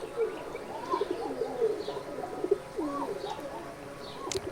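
Giribaj pigeons, including a female let out over a rooftop loft in harsh midday sun, coo in soft, repeated throaty rolls, close and steady with faint chirps and no talk.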